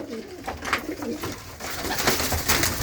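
Punjabi Malwai pigeons coo in a loft in England, a soft repeated low warble with rustling and background noise, several overlapping coos close by.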